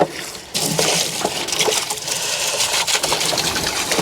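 Water splashes and sloshes inside a container for a few seconds, a close, busy rinsing sound with no talking.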